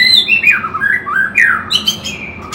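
A caged bird gives a loud, close series of shrill squawks and descending whistled calls, repeated several times in quick succession with no voices.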